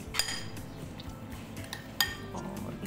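Chicken mixed with salt and spices in a bowl for pakora, with clinking and scraping against the dish and a few sharp metallic knocks, steady and close.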